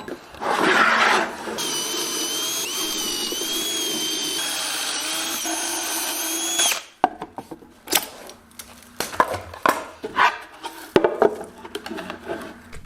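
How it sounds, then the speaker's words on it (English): Power drill driving pocket hole screws into 1/2 inch plywood, heard as a long steady whining run of about five seconds, then a series of short choppy bursts with knocks and handling noise, close up. "I'm going to pocket hole screw these straight down"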